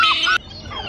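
A flock of birds being fed bread by the water in Dublin gives loud, close calls and chatter for a moment, then quieter calls in the background.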